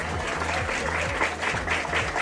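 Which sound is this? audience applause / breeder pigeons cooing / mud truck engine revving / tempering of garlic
audience applause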